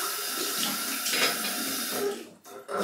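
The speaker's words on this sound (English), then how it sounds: "Of course it's cold water rinse." Cold tap water runs steadily into a sink to rinse a Braveheart razor from Executive Shaving Co, a close, even splashing stream that cuts off briefly near the end before resuming.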